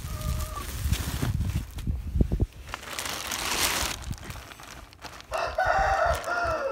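Brooding hen sitting on a clutch of 17 eggs in a basket gives short, low clucks, with crinkling rustles from the nest material and a rooster crowing faintly in the background.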